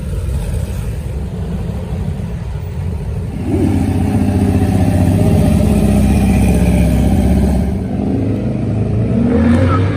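A pair of T-bucket hot rods at a muscle car show, one engine running with a low idle that swells into a louder, sustained rumble with slight revving, close by and with no talk over it.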